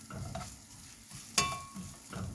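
Vegetables for vegan chickpea burgers sauté in a pan with a soft sizzle while being stirred, a sharp scrape or clink in the middle, and no talking.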